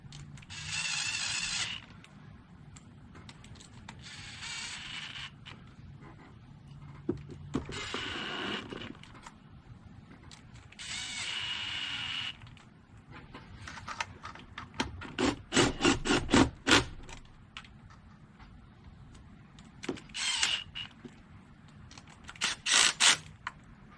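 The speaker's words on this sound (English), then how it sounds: "Now at this point I'm going to start snugging up all the bolts" A power driver with its clutch set low snugs rocker arm shaft bolts on a 2007 Jeep Wrangler 3.8L engine: several short whirring bursts, then rapid ratcheting clutch clicks, close and fairly quiet.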